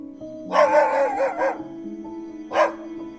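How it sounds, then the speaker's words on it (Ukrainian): A dog barks a few times nearby, a quick cluster of barks followed by a pause and one more bark, over a faint steady hum. "це гавкає собака"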